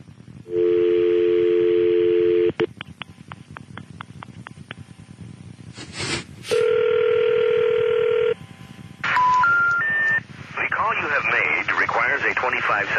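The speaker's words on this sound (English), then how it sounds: "So I had to change the outgoing message on my cell phone." A telephone line runs through a steady dial tone, a rapid series of dialing clicks and beeps, then a rising three-note intercept signal before a recorded payphone message begins, all loud and close.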